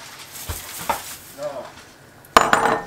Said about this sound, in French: On va ajouter le riz